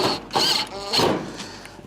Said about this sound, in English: line it up, and reinstall our second screw.